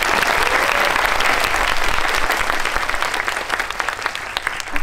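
Dense, sustained applause from a cinema audience at a film talk event, loud and close, slowly thinning toward the end with scattered individual claps.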